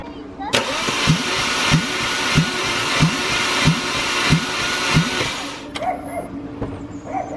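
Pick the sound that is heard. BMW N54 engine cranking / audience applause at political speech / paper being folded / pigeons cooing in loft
BMW N54 engine cranking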